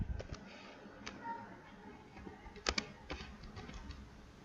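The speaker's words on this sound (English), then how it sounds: "Only just type on your keyboard, not in search bar, and make enter." Keystrokes tapped on a computer keyboard, a quick uneven run of close, light clicks with a brief louder cluster partway through.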